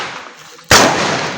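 A plastic carbide gun fires a single sharp, loud bang after a short quiet pause. The blast cuts in abruptly and leaves a hissing, echoing tail that slowly fades outdoors.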